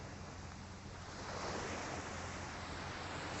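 Calm Atlantic surf washes steadily at Deerfield Beach, Florida, at sunrise: a soft, continuous broadband wash with gentle swells and light wind, no voices.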